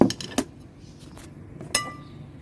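A metal spoon clinks sharply against a pan or bowl a few times while melted butter is drizzled over manti dough in a home kitchen, with quiet pauses between the taps.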